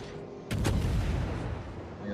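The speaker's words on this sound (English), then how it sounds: "Fletcher spotted me, so guns are going to open up." Naval guns open fire in a World War II destroyer game: a sudden loud double boom followed by a long rumbling, crackling tail that stays heavy for over a second.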